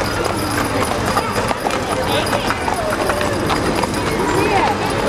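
A draft horse clip-clops steadily along a hometown parade route at the Barley Days parade in Greenwald, Minnesota, with a brisk, continuous patter of hooves under the murmur of the surrounding crowd.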